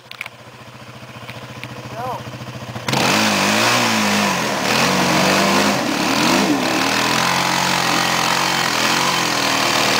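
A stuck car's engine idles, then revs hard and holds a loud, steady roar as its wheels spin on tires with poor traction while someone pushes at the rear bumper; voices talk over it.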